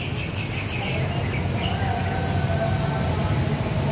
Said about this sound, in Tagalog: At naririnig mo naman yung huni ng ibon.